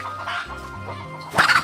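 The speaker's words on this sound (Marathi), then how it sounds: "आणि इकडे कोंबड्या आहे बघा" Chickens at a village house cluck in soft murmuring calls over a low hum, then a louder squawking burst erupts near the end, close by and with no talk.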